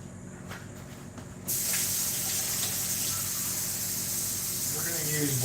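Water runs into a cooking pot in a kitchen, a steady hissing splash that starts abruptly partway through and continues evenly to the end, with a voice talking over it.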